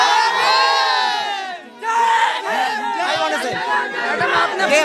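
A large crowd at a BSP political rally in Lucknow roars with loud, sustained shouting and cheering, many voices overlapping in waves with a brief dip before surging again.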